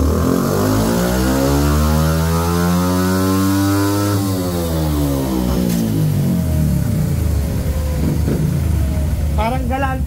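Motorcycle engine revving hard on a dyno in third gear, a loud, steady high-revving drone that sweeps down and back up in pitch, with faint talk underneath.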